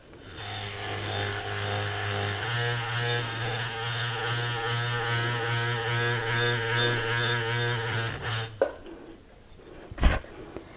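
A satin finisher power tool working metal, running as a loud, steady motor whine with abrasive grinding for about eight seconds before cutting off, followed by a couple of brief knocks.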